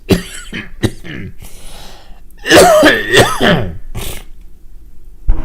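A person coughs and clears their throat close to a microphone, a string of sharp, dry bursts followed by a longer rough, hacking cough and a brief pause.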